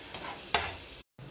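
Garlic and ginger fry in oil in a pan, giving a steady close sizzle with a brief stirring scrape partway through, then a short gap of silence before the sizzle resumes.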